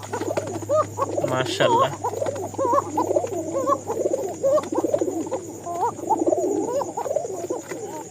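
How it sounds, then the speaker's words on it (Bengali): A kokka pigeon calls in a repeated series of soft, throaty coos, close by, over a low steady hum, with a short spoken word partway through. "এই ককাটা দেখাচ্ছিলাম, ডাক মাশাআল্লাহ খুবই ভালো।"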